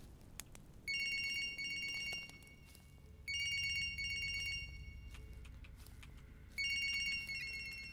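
A telephone rings in a dark Siren Head horror game, three bright electronic ring bursts recurring every few seconds over a low ambient hum, with no talking.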